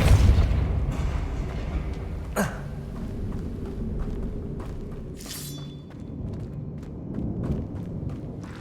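Depulso spell cast in the Hogwarts Legacy video game, a sharp magical whoosh and booming impact that then gives way to rumbling debris and smaller thuds and clinks over a low game ambience.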